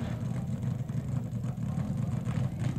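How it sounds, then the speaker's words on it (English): Drag racing funny car burnout at a 1971 drag strip, a steady low rumbling engine roar held throughout at moderate distance, with no clear rev changes. "I can't compete with that burnout"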